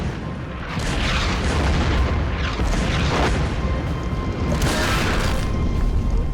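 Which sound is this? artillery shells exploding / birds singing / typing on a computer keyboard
artillery shells exploding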